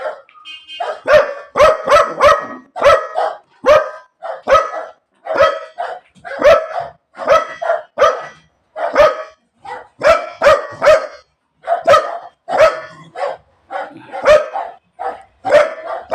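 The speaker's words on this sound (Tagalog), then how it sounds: "Ito nga pala, yung aso ko si Coco" A dog barks repeatedly and loudly nearby in a fast, steady string of sharp barks with brief gaps, continuing throughout without any talking.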